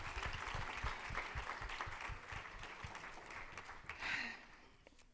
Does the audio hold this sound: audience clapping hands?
yes